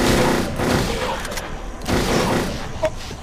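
Gunfire during a boss fight in the Silent Hill 3 video game, with loud sustained bursts and sharp shots crowding the clip, one brief sharper crack near the end.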